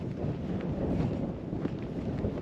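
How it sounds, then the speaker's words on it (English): Steady wind buffets the microphone on a riverside walk, a continuous low roaring rush that fills the whole stretch without a break. "So the wind's getting up a bit now"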